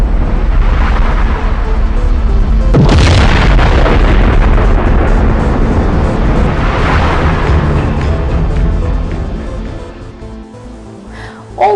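A loud, deep exploding-star sound effect: a sustained rumbling roar with a sharp burst a few seconds in, swelling again before fading out near the end.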